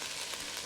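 Meat sizzling as it sautés and browns in an Instant Dutch Oven at 400 degrees, a soft steady hiss of frying with no talk over it.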